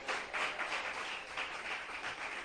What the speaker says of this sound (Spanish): ¿Cuántos aplauden al Señor en esta noche?